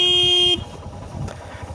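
A 125 cc motorcycle on a village road in West Bengal sounds a loud steady horn for about half a second, then its engine rumbles on as a low, uneven drone.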